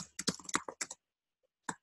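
Someone types a short status on a computer keyboard: a quick run of close, crisp key clicks, then a pause and one final tap.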